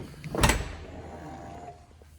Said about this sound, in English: This has got the power soft close doors as well.